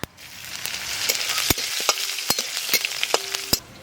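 Asafoetida, whole cumin seeds and chopped green chillies fry in hot oil in a pan, sizzling close up and building quickly, punctuated by sharp clacks of a spoon stirring against the pan.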